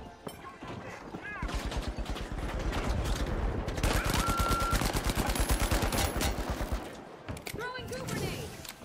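Rapid automatic gunfire rattles in The Finals video game, a dense sustained burst of loud close shots over several seconds, with brief quieter moments at the start and end.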